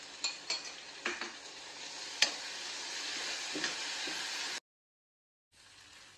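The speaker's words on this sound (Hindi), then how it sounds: "अब इसमें अपनी उबली हुई सेवियां डालेंगे।" Boiled vermicelli tossed and stirred in a hot frying pan with vegetables, chopped coriander and spices, giving a steady close sizzle broken by soft scraping strokes and a sharp clink, then a brief silence before the sizzle returns.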